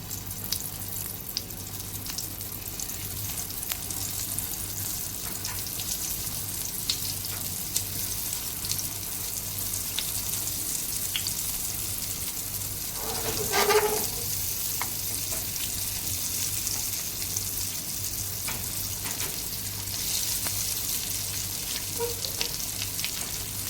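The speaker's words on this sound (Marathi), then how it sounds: "मग आपण शॅलो फ्राय करण्याकडे वळूया. आता हे तेल टाकलंय आपण, याच्यात टिक्के टाकूया." Rajma tikki shallow frying in oil in a pan: a steady close crackling sizzle for the whole stretch, with a brief louder burst of spitting near the middle and no voices.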